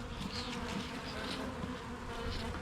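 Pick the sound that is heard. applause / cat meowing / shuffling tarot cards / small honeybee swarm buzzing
small honeybee swarm buzzing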